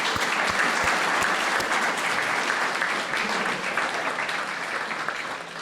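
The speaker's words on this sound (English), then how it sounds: "I think we should give her a round of applause right now" Congregation at a Sunday church service applauding, steady dense clapping from many hands that holds loud for several seconds and fades slightly toward the end.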